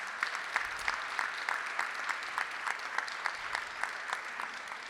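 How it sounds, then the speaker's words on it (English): A crowd at a Rotary meeting applauds teachers from Cincinnati Public Schools, the clapping steady and rhythmic with individual claps standing out, continuing throughout. "So let's give them one more round of applause."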